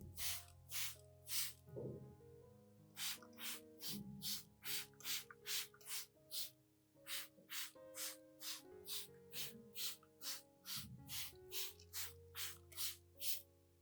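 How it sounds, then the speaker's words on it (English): A spray bottle mists the upper and lower surfaces of lily leaves in quick, sharp repeated spritzes, with short clusters of squeezes separated by brief pauses. Soft handling noises sit underneath. "misting both the upper and lower surfaces allows the nutrients to penetrate deeply"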